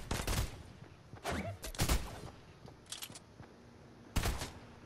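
Bursts of SMG fire in Fortnite gameplay come in several short loud volleys with gaps between them, plus a few sharper single cracks. Nobody talks over the shooting.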